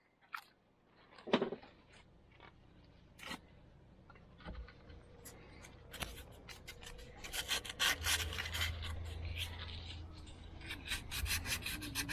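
Scraping and sanding on the head gasket surface of a Yamaha 115 outboard motor, heard as irregular close rasping and rubbing strokes with scattered sharp scrapes that grow denser and louder toward the end, with no talking.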